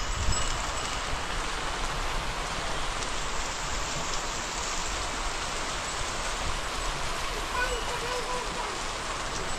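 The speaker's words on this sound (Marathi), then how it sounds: "पाऊस आला" Rain falling during a storm, a dense, steady hiss of drops pattering on surfaces at close range, unbroken throughout, with no clear voices.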